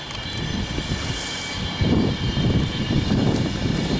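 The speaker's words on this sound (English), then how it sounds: "Here comes class 390, guys." A Virgin Trains class 390 electric train arriving at Rugby Station, a loud broad rumble and whine that builds midway as it draws close, over steady platform ambience.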